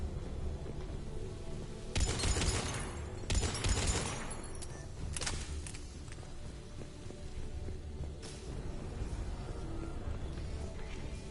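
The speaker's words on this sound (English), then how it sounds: "I hear some gunfire." Bursts of automatic gunfire in the video game Mass Effect 3, several clustered volleys over a constant dense background of game noise, mid-distance and fairly loud with no talking.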